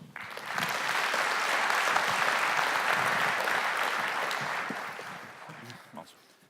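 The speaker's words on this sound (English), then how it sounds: "May I have your big round of applause for Hans Bossenbroek." An audience at a developer conference keynote applauding a speaker, the clapping swelling quickly, holding steady and full for several seconds, then fading away.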